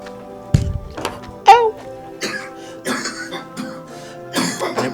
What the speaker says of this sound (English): You coughed right over the end.